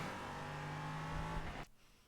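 An LMP3 race car lapping Spa in iRacing, a loud sustained engine tone close up that holds steady and then cuts off abruptly near the end.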